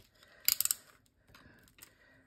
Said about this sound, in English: I'm just gonna cut through this